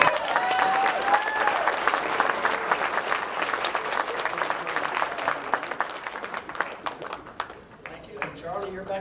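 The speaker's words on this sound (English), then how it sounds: "I want to give a round of applause for Buster Elliott." Audience applause at a beach music hall of fame event, sustained loud crowd clapping with a brief whistle early on, carrying on for several seconds before thinning out near the end.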